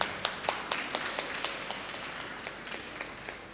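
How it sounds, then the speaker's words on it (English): Applause at a Model United Nations opening ceremony, a modest group clapping with distinct sharp claps standing out at a brisk irregular pace, fairly light and thinning toward the end. "Please give him a huge round of applause."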